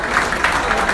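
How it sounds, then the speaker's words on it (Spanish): An audience at a union anniversary event claps loudly in a brief, steady burst of applause. "Recibamos con un fuerte aplauso a los compañeros Bebito Vargas"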